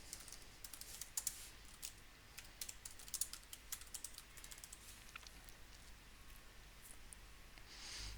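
A template name typed on a computer keyboard, a quiet, steady run of light key clicks over a faint background hiss.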